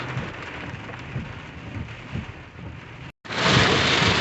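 Heavy rain pours down in a steady dense hiss with low rumbles, briefly cutting out near the end before returning even louder and fuller, no voices present.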